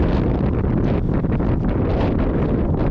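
Strong wind buffets the microphone high on a mountain trail up the Pic du Midi de Bigorre, a loud, constant roaring gust with no let-up, heard alone.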